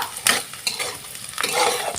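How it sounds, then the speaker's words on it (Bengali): Chopped onions fry lightly in a pan as a utensil stirs and scrapes them. A steady sizzle runs underneath, broken by several sharp clinks from the spoon. "এই পেঁয়াজের সাথে হালকা করে আমি ভেজে নেব"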